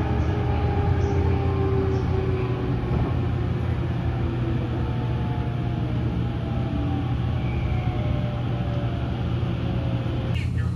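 An Odoriko limited express train rumbles into Odawara Station, a steady low rolling hum with faint squeals and rattles as it runs in, with no talk.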